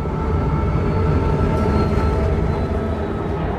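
A train pulling in during the Saints Row video game: a steady, loud rumbling roar of rolling rail wheels that holds evenly throughout with no voices.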